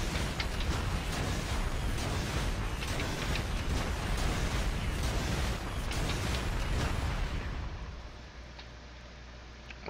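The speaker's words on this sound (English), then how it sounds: "Apply the burn, and then shoot the missiles." Wrist rocket missiles pound burning targets in the Marvel Heroes game as Iron Man, a dense, continuous barrage of bursts and crackling blasts that fades sharply near the end.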